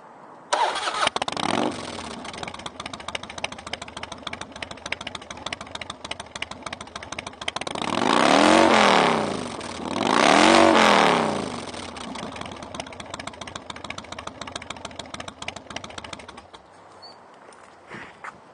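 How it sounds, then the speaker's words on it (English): A 2002 Harley-Davidson FXDL Dyna Low Rider V-twin motorcycle cranks and fires, then settles into a loping, uneven idle, with two long revs swelling loud in the middle before it drops back to idle and shuts off. "I'll fire it up for you so you can see how beautiful she sounds."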